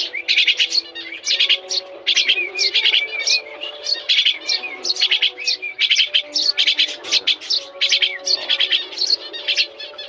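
Tree sparrows and mynas chirping close by, dense overlapping tweets and calls running continuously, loud and busy with no speech.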